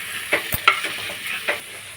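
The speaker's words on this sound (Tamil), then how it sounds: "சிம்மில் வச்சு அப்படியே வதக்கி விட்டுக்கலாங்க." Ingredients for a South Indian hotel-style white kurma are sautéed on a low flame, with a soft sizzle under a few distinct stirring scrapes and taps, close by and quiet.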